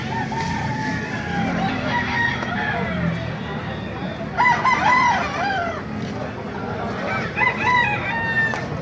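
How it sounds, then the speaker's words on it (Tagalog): Roosters crow repeatedly among clucking hens and other fowl at the Baliuag tyangge market on a rainy day, several birds calling at once and nearby, with faint background voices. "Mas ganda ng mga manok dito,"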